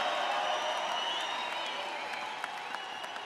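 A rally crowd in Colorado Springs keeps up steady applause and cheering, a dense wash of clapping that slowly tapers, with a few scattered whoops on top.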